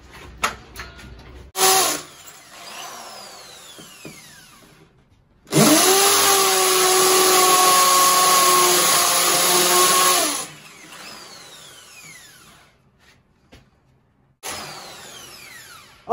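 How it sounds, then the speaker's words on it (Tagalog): A power drill bores holes into a concrete wall below drywall for mounting a closet hanger pipe, with a loud sustained whine lasting about five seconds, framed by quieter handling sounds and brief bursts before and after. "Kailangan natin ng apat na drill dito."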